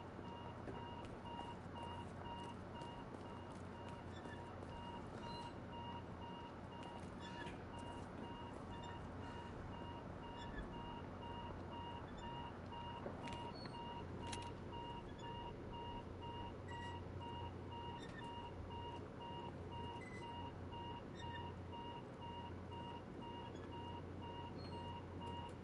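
Repeated electronic beeping from the Separate Ways DLC video game, a steady regular alarm-like tone pulsing over a low game ambience throughout, with no talking.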